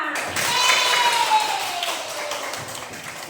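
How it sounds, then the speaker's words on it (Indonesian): A classroom of schoolchildren claps together after a group chant, a dense, steady patter of many hands filling the room at close range, with children's voices calling out over the applause. "Ya, tepuk tangan buat kita semua."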